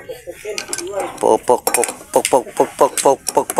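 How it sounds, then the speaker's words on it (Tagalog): A hammer strikes a steel knuckle-bearing bolt on a vehicle's suspension, giving a close, loud series of sharp metallic clanks in quick, uneven bursts with ringing tails. "Pukpukin lang yan mga kulikot."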